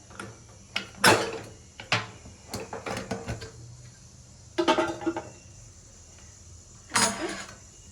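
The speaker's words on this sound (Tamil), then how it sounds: "இப்போ அந்த குக்கரை திறந்து பார்ப்போம்." Opening a pressure cooker lid gives a series of metallic clanks and scrapes, with sharp knocks around the first and fifth seconds and a final clatter near the end, close and loud with quiet gaps and no talking.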